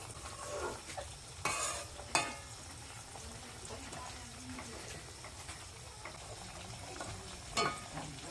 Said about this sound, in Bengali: দেখুন আমি এই তেলটা নাড়ছি